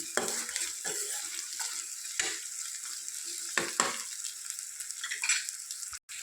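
Ginger and onions frying in a pan, stirred with a utensil that scrapes in irregular strokes over a steady, close sizzle, for a drumstick curry.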